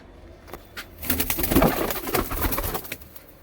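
A pair of Kalsara pigeons kept for sale coos nearby in low, soft, rolling calls, heard alone with no one talking.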